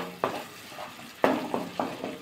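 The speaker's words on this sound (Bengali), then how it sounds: "2 মিনিট কিন্তু ভালো করে মশলাটা কষিয়ে নিতে হবে" Spice paste with peanut and coconut frying in a pan with a little water while stirred: a soft continuous sizzle broken by four or five scraping strokes of a spoon against the pan, close and moderately loud.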